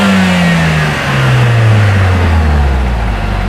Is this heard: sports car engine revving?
yes